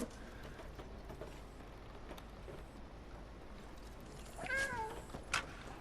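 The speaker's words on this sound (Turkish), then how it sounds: "Tam boyayı atacağı sırada miyavlamamız lazım." A cat meows in the video game Stray, a few short calls near the end, faint over a steady game ambience.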